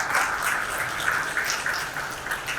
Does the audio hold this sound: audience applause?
yes